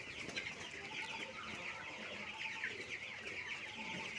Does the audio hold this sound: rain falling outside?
no